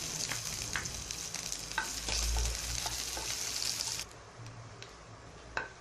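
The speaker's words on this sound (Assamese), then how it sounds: "ইয়াতে পিঁয়াজখিনি ভাজি লওঁ।" Onions fry in a wok with bay leaf, a broken chilli and cumin seeds, sizzling steadily up close while a spatula stirs and scrapes; the sizzle drops back sharply near the end, and no one speaks.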